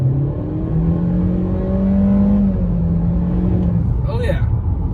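A 2020 Honda Accord engine accelerating, a steady rising drone and hum heard from inside the cabin, with talking over it.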